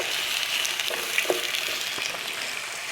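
Peeled potatoes sliced about a quarter inch thick sauté in roughly a tablespoon of oil, giving a steady, close sizzle with a few soft pops and crackles throughout, with no talking.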